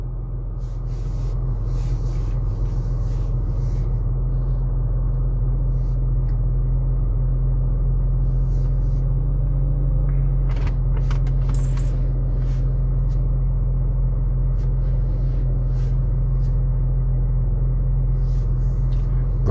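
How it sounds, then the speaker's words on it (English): A 2007 BMW X5 E70 idling steadily, its engine a constant low rumble close by and alone, with brief faint clicks and a short higher whine midway; the vehicle has a faulty gear selector. "The car is running."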